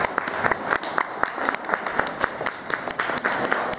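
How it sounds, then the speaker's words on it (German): Audience applause at a bird park show at Weltvogelpark Walsrode, a steady wash of many hands clapping with some sharper individual claps, moderately loud, with faint voices beneath. "kann auch gerne mit einem Applaus begrüßt werden"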